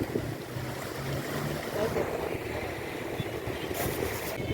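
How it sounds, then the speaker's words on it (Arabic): Sea waves breaking on a beach, a continuous rolling wash with gusting wind buffeting the microphone, steady and fairly near, with no clear talk. "شايفين الموج؟"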